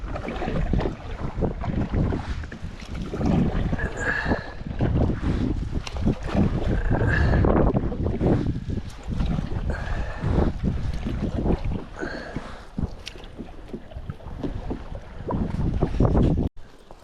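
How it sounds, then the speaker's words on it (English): Strong south wind on Lake Superior's Bark Bay near a canoe roars and buffets the microphone in continuous loud gusts, with faint water movement underneath and no talking. "It's pretty windy from the south."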